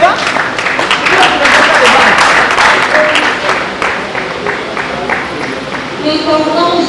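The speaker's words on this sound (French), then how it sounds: "Madame Emeros, s'il vous plaît, tous vos applaudissements." An audience at a political party event applauds a coordinator. The clapping is loud and sustained, with a voice speaking over it.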